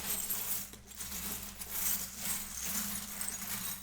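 Small metal charms picked up for a card reading, jingling and clinking in a steady scatter of light metallic rattles close by, with no talk.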